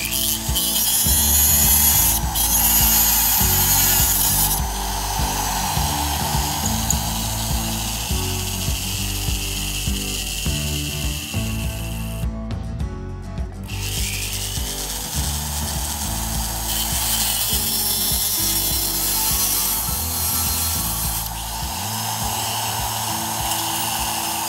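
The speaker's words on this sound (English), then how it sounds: "we'll have to grind the end off" A grinder takes the end off a wound spring held on a lathe mandrel, making a loud, continuous high grinding and whining that shifts in tone and pauses briefly near the middle.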